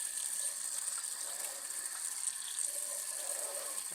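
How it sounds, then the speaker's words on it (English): Steady broadband rush of tap water running over meat at a kitchen sink, continuous and fairly soft with faint clinks, no voices. "Let's rinse it off."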